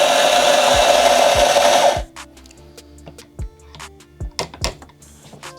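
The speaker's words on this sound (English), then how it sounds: "We are grinding the coffee right now." A coffee grinder for a Ceado E6P espresso setup grinds beans in a loud, steady whir for about two seconds, then stops, followed by low thumps and light clicking handling noises nearby.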